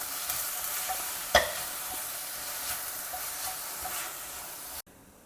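Frozen green peas sizzle steadily in a hot pan on a lowered flame, with a stirring scrape and one sharp clank partway through before the sizzle cuts off abruptly near the end.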